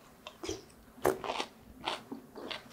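Crisp biting and chewing of crunchy summer radish pickled in a dongchimi-style brine, several sharp close crunches spaced irregularly, loud and alone.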